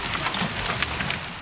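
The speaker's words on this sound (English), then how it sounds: "viewers showed us how Mother Nature brought heavy rain and a little hail to North Texas" Heavy summer storm rain with a little hail in North Texas, a dense steady hiss of drops striking surfaces, with scattered sharper taps throughout, close and continuous.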